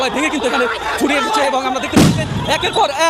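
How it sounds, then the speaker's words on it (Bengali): A police sound grenade detonates at a street protest, one sharp loud bang partway through, surrounded by crowd voices and continuous speech. "আমরা দেখতে পাচ্ছি সাউন্ড গ্রেনেড হয়েছে"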